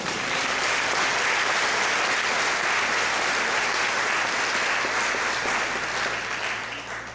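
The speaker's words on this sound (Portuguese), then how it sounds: "aplaudam o Senhor" A church congregation claps in sustained, dense applause filling the room, steady and loud throughout before easing slightly at the end.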